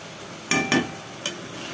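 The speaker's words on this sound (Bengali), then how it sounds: "এবার একটু নেড়ে দিচ্ছি খুন্তি দিয়ে হালকা করে" Fish curry simmers in a pan with a steady sizzle while a spatula stirs it gently, giving three brief close scraping strokes against the pan.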